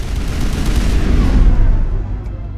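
Chemical rounds fired in Mass Effect, heard as a loud, low, rumbling boom of gunfire that sustains and then decays, with no talk.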